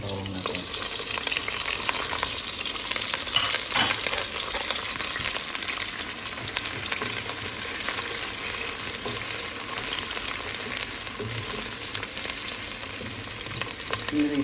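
Garlic frying in a pan for chicken menudo with chicken liver, a steady dense sizzle with occasional stirring scrapes, close and continuous.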